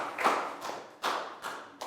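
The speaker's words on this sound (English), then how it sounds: "Big round of applause for Lakau." A small class claps for a student after a lesson on non-locomotor movements, a few short bursts of hand claps with quick pauses between, close and fairly quiet.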